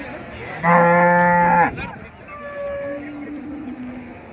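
At the Gadag livestock market a cow lets out one loud, close moo lasting about a second, then a fainter, longer low follows from another animal amid the market's background murmur.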